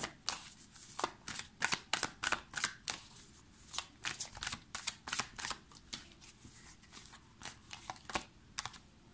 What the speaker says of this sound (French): Je vais tirer 2 autres cartes.